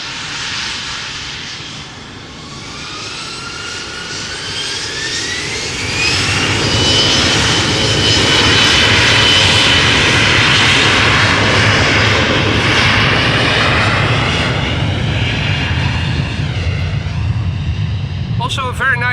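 An underpowered airliner climbs slowly away after takeoff at Amsterdam Schiphol, its jet engines building into a loud, sustained roar with a rising whine, steady and near throughout.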